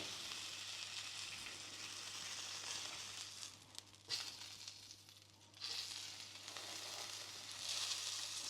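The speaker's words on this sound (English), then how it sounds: "Let's see if we can give some on the edges here." Edges of a thick tomahawk steak searing in a hot pan, a soft steady sizzle with a low hum beneath and a few brief crackling shifts as the meat is turned, no speech.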